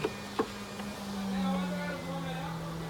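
A package of honey bees is being set into a hive box, giving a faint, steady buzzing drone with a couple of soft knocks, and a voice murmurs nearby.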